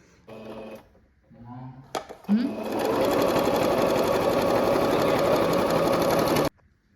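Sewing machine stitching through a cotton cloth pad, a steady fast motor whir running loud and close for several seconds after brief talk, then stopping abruptly.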